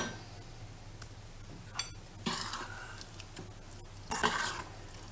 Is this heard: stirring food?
yes